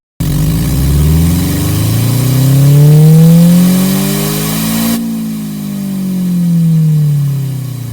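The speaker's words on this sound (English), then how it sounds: "First, we will start with a standard 4-cylinder engine." A synthesized inline four-cylinder gasoline engine drone rises and falls in pitch as if revving up and easing off, loud and steady throughout, with a smooth artificial tone.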